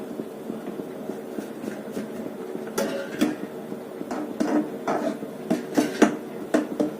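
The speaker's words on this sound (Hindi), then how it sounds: "धीरे धीरे करके सूजी डालेंगे और हिलाते रहेंगे।" Semolina poured gradually into a pan and stirred for upma, with repeated scraping and light metallic clinks of a spoon against the pan, growing sharper and more frequent toward the end, close up and without talk.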